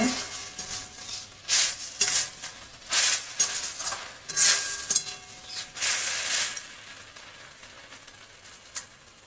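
Hilsa fish head, paneer, prawns and mixed vegetables sizzle in a pan on low gas, with repeated scraping stirs and clinks of a utensil against the pan coming in steady bursts, close and fairly loud, no talk.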